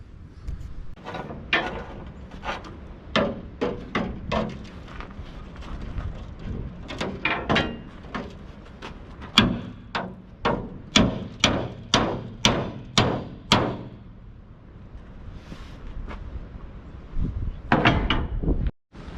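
A steel pry bar being hammered into the welded, rusty lift gate of an International box truck: a long run of sharp metallic strikes in irregular clusters, close and loud, with no talk.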